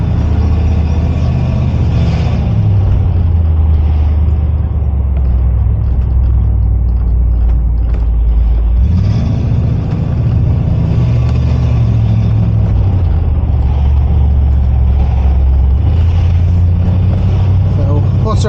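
A Range Rover P38 drives along a village road, its steady engine rumble and road noise loud and continuous, with a brief dip and shift in tone partway through.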